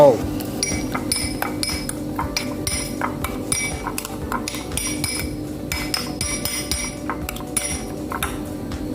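A spoon mixes seafood dipping sauce in a bowl, making a quick, repeated run of light clinks and taps against the dish, close and fairly bright, with speech partly under it.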